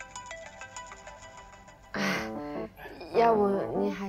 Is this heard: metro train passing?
no